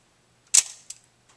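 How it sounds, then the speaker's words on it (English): A 35 mm film camera shutter releases with one crisp close snap, followed by a fainter mechanical click a moment later in an otherwise quiet room. "You can see how the shutter operates as you release the shutter button"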